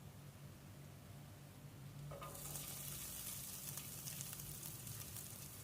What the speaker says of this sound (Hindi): इसमें थोड़ा सा ऑयल ऐड करेंगे और इसमें ऐड कर देंगे चिकन।